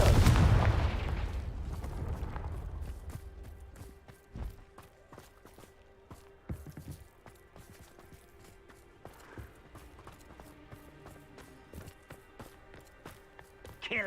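A loud Confringo blast in Hogwarts Legacy opens with a heavy boom that decays over a few seconds, followed by scattered faint clicks and thuds in a quiet game scene.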